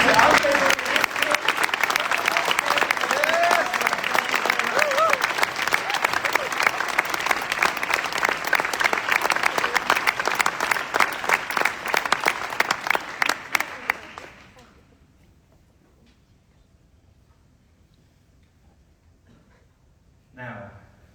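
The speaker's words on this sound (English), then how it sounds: "I don't think that one round of applause is enough to say thank you to our favourite" Large audience applauding at the WorldSkills Competition closing ceremony in Messe Luzern, Lucerne, Switzerland: dense, steady clapping for about fourteen seconds that cuts off abruptly, leaving near silence before a brief faint sound at the end.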